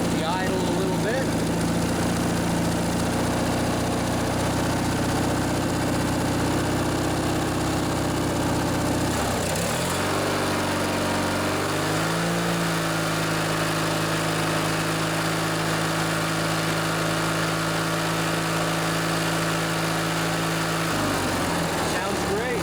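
A small lawnmower engine idles after its idle speed is turned up, a loud steady drone that drops briefly and settles at a new higher pitch, then shifts again near the end.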